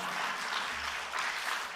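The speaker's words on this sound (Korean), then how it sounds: "왜 박수 한번 치려고요?" An audience at a talk on health and high blood pressure claps briefly, a short, even patter of applause heard from a distance.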